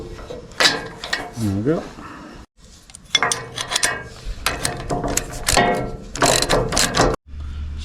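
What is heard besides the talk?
tightening bolts with a ratchet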